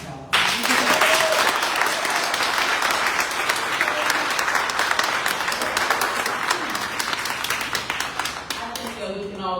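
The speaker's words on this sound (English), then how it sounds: "Please join me in giving the pass a round of applause." After a film screening at a community center, an audience breaks into applause that starts abruptly, swells into dense clapping from a roomful of people, then thins toward the end with individual claps standing out.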